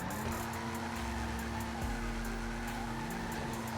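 A Lampadati Cinquemila in GTA Online roars through a drivetrain test, its engine droning steadily while tires squeal and skid, loud and close with no talking.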